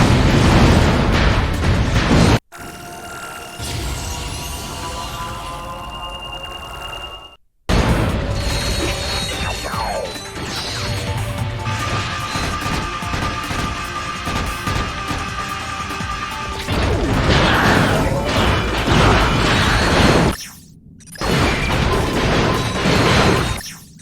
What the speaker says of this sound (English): Explosions are pretty.